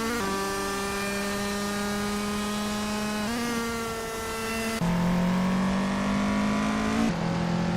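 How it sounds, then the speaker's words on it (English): Vintage race cars, including a 1971 Porsche 917 LH, roar through a race with sustained, high engine whines that rise and shift as cars change gear, loud and steady throughout with no speech. "Ebony Shadow is racing a Porsche 917 LH from 1971."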